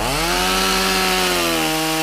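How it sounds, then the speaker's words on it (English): A chainsaw from the video game Fortnite whines with a steady, loud, buzzing engine drone that rises slightly in pitch, heard alone for two seconds. "The chainsaw."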